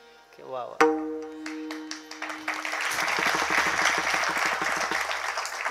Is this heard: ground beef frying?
no